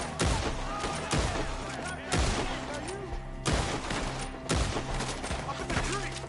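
Gunfire in the video game Red Dead Redemption 2, with about five loud, sharp shots spaced roughly a second apart over steady game background sound, as a gunfight against enemies hiding up in trees.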